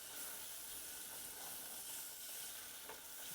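Onions frying in a nice, pricey pan, a steady close sizzle and hiss running continuously with faint stirring scrapes and no talk.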